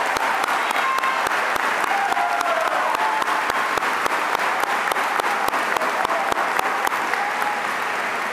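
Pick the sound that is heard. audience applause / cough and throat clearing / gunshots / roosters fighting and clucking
audience applause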